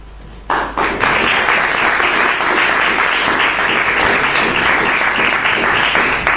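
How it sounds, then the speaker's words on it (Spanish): After a brief quiet moment, applause from an audience breaks out suddenly and continues loud and dense, many hands clapping together without pause until the end. "No era para que aplaudierais"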